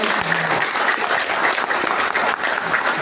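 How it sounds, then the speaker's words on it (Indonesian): An audience at a traffic safety outreach and basic traffic-control training session breaks into sustained, steady applause, loud and dense for about three seconds. "Tepuk tangan untuk"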